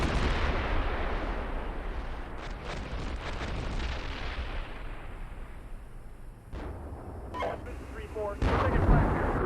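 Gunfire and artillery in a military video game battle: continuous distant rumbling barrages and booms, with several sharper nearby blasts toward the end.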